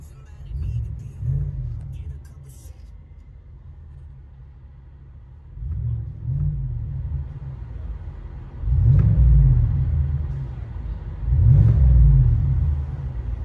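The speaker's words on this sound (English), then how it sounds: "Let you guys hear on the inside." A 2020 GMC Sierra AT4 with a 6.2L V8 and Flowmaster 40 Series dual exhaust, heard from inside the cab: a deep low rumble that swells in three or four rev surges, with quieter idle between them.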